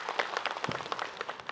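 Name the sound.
applause from the congregation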